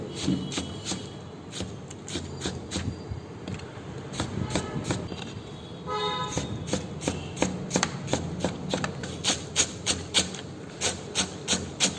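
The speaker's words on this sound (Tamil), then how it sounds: "தக்காளியை கட் பண்ண போறாங்க" A knife cuts tomatoes on a board for the masala filling of bakery egg puffs, giving a steady run of crisp, close strikes that speed into sharper, evenly spaced chops toward the end.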